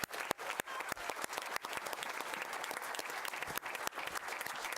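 Audience applause fills a school board meeting, steady dense clapping from a crowd throughout with a few sharper individual claps standing out.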